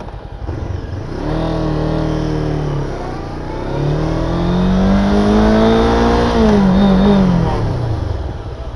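An MBP 502 naked motorcycle engine revs up loudly and holds a high roar through two rising pulls, heard up close with no voices.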